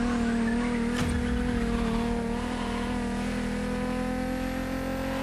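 A BMW Z4 M40i roadster drives in The Crew Motorfest, its engine giving a steady, loud drone with a sharp burst near the start, then continuing evenly at a constant pitch.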